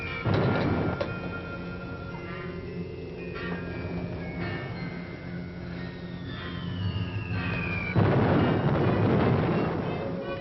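Wartime bombing in a 1948 film: deep, sustained rumbling booms roll on continuously, with a distant whining tone sliding across and a heavier burst swelling near the end.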